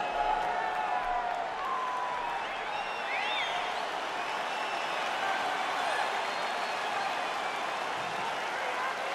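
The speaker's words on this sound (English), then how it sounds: "Crowd fired up, so are we." A fight crowd roars and cheers steadily through a women's mixed martial arts bout, a broad continuous wash of distant voices and applause under the arena atmosphere.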